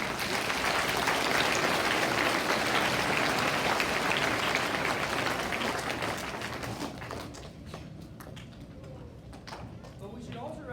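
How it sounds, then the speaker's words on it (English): Loud, sustained applause from a crowd at a school Veterans Day assembly, clapping densely before thinning out into scattered individual claps near the end. "So I think maybe a round of applause."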